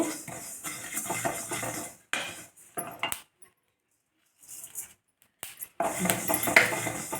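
Ingredients dry-roast slowly in a pan on low heat while a utensil stirs them, making bursts of close metallic scraping and clatter broken by a short quiet pause.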